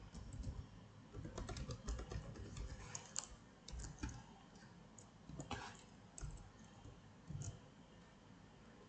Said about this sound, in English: We'll just type console.log.